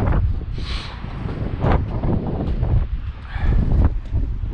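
Wind blusters across an outdoor building site where bricklaying is under way, rumbling and buffeting the microphone in uneven gusts, loud and close for several seconds, with faint scattered knocks.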